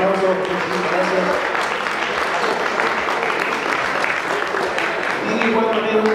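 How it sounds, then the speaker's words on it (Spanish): Loud, steady applause from the crowd at a golf tournament awards ceremony, dense clapping continuing for several seconds without a break. "Un fuerte aplauso, muchísimas gracias."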